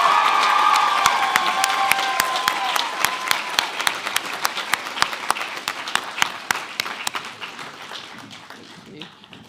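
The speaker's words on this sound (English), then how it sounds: "let's give them another big round of applause." Audience applause at a school arts and culture awards assembly, a dense wash of many clapping hands that starts loud and gradually thins and fades, with scattered sharper individual claps standing out near the end.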